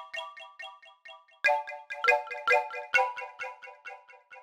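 Plucky synthesized wooden-flute tones made in Massive X play a short melodic run of bright, evenly spaced notes, with several louder accented hits midway; clean and alone, no voices.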